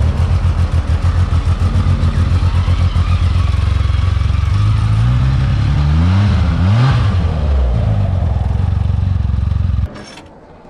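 Motor vehicle pulling up close by, a loud steady engine drone with rhythmic chugging and a pitch sweep as it slows, before cutting off abruptly near the end.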